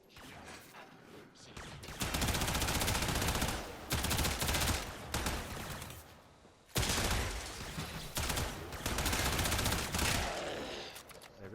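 Soma Prime rifle gunfire in the video game Warframe, long sustained bursts of rapid automatic fire interrupted by brief pauses, loud and dense throughout.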